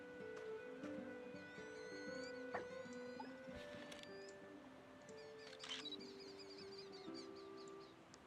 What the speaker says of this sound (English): Peregrine falcon.